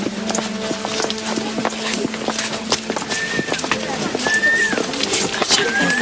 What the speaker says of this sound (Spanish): Los nuevos tranvías a caballo recorrían al trotecito las calles largas y angostas de la ciudad